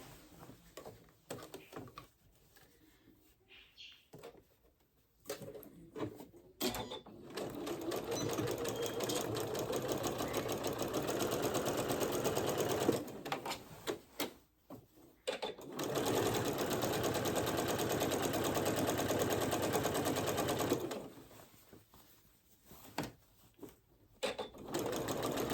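A domestic sewing machine stitching a shirt seam in long steady whirring runs, stopping and restarting several times with quiet handling noises in the pauses.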